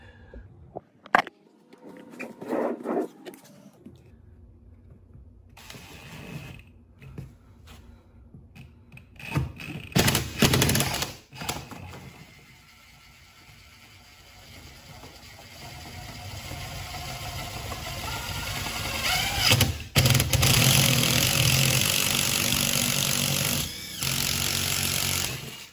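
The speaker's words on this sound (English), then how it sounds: "So my mechanic tool's going on to drill this hole because the wall is super thick." A power drill grinds steadily through a very thick wall, its whine rising and falling in long bursts and growing louder and harsher toward the end.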